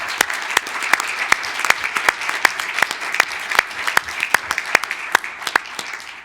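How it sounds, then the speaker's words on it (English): Applause in a city council chamber during a regular meeting: a modest crowd clapping steadily for about six seconds, with sharp individual claps standing out close by and no talking over it. "So let's give them a big round of applause."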